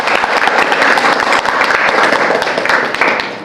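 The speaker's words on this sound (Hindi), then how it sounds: "भाई जोरदार तालियों के साथ क्लैपिंग कीजिए।" Loud, dense applause from an audience at a school event celebrating students' CBSE exam results in Hansi, many hands clapping steadily with sharp individual claps standing out.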